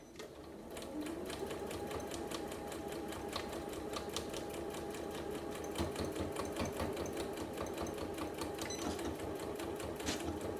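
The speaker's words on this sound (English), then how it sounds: "And then I'm going to sew straight along." A sewing machine runs continuously while stitching a fabric table mat, a close, steady rapid mechanical chatter with regular ticking pulses throughout and no talking.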